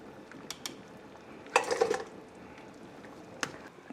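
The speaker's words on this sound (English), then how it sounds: "We're going to stir everything." Spoon stirring beef pho broth in a cooking pot: faint scrapes and light clinks against the pot, with one brief cluster of metallic clatter midway and a last soft knock, quiet and close.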